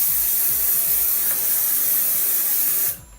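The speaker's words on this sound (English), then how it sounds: "when you get the spray, you just get a section of hair and you just lightly spray your hair" A spray bottle mists a section of clean, dry hair, giving a continuous soft hiss with faint repeated pumping clicks underneath. The hiss stops abruptly at the end.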